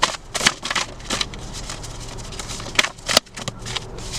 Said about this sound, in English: I was called to shuffle this one up